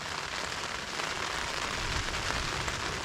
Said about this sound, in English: Right, this rain is only set to get heavier